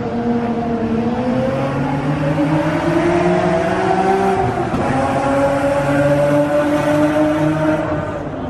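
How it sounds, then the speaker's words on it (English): A Nissan 350Z engine rumbles at a 4am street car meet, loud and near, holding a steady drone that swells and dips in pitch as it revs. "Sounds like a 350Z."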